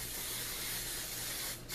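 IGK Next Level Nordic Cotton hair spray misted close up, section by section onto the hair at the roots, in a steady, continuous hiss that keeps going and then gives a brief extra burst near the end.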